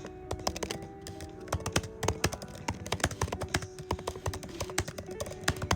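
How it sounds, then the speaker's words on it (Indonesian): Rapid typing on a laptop keyboard, a steady stream of crisp close-up key clicks with occasional heavier taps, no talking. "Keyboard laptop."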